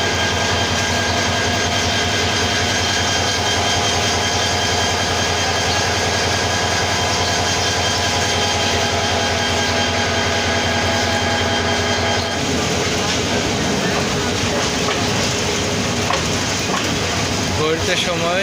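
The Nasirabad Express train pulls into Kishoreganj railway station with a steady, loud rumble and a mechanical drone. Around the twelve-second mark the sound shifts into rougher, clattering noise as the train slows.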